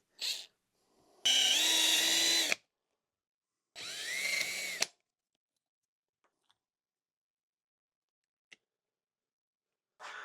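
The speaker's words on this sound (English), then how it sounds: "All we're looking to do here is drill the heads off." Two long bursts of a power drill whining at high speed, drilling the heads off stripped screws on a 2006 Yamaha YZ250 motorcycle, separated by a pause, followed by quiet with a few faint clicks.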